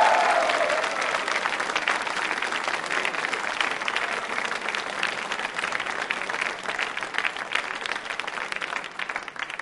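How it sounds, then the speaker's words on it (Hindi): Audience applause at a quiz show awards ceremony, steady sustained clapping from a crowd throughout, fairly close and loud. "तालियां बजाइए आभार प्रदर्शन के लिए"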